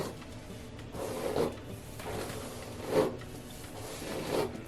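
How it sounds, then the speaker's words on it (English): Soft, scratchy swishes of a Denman brush drawn through thick hair with product in it, three slow strokes at a steady pace, close and fairly quiet. "whenever I pass a brush through my hair, it sounds like this"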